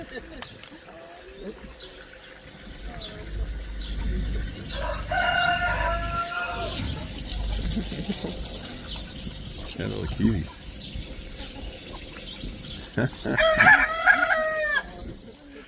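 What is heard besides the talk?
chickens and cockerels crowing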